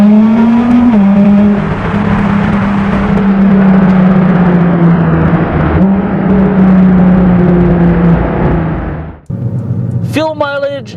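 A 2017 Nissan GT-R Nismo idles and revs with a deep, loud engine and exhaust note, a steady low drone with shifting pitch, close by, then cutting off abruptly before a brief whine and other noise.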